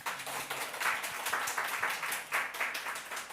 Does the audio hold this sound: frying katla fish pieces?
no